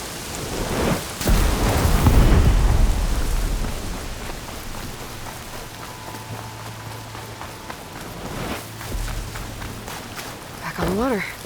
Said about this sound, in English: The storm's not gonna let up.